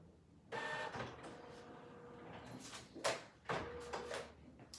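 A color printer runs while printing a photo, giving a mechanical whir with paper-feed clunks and several sharper clacks toward the end. The sound is fairly faint and close, with no speech.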